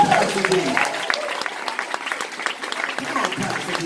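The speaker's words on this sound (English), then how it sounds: "Somebody clap your hands and Pastor D." A live church audience claps in dense applause, with some cheering mixed in. The crowd is close and fairly loud, and a preacher's voice carries over the clapping.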